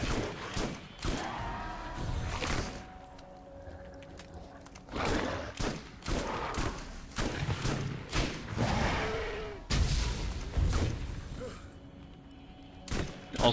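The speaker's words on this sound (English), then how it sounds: "My insistence on using the shotgun is going to almost literally burn me once again." Shotgun blasts ring out during a Borderlands boss fight, a string of loud booming shots in irregular bursts with quieter gaps between them, alone without talk.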